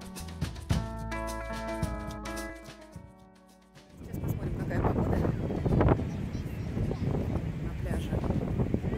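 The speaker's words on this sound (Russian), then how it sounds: "Достаточно сильный ветер." Strong sea wind on Pärnu beach by a wooden boardwalk, arriving after a few seconds of other sound as a loud, steady roar that buffets the microphone through to the end.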